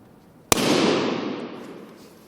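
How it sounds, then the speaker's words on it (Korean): A balloon popped by hand, one sharp loud bang followed by a short echoing decay in a room, alone and close. "제가 들고 있는 이 풍선 터지는 소리와 비슷하다고 합니다"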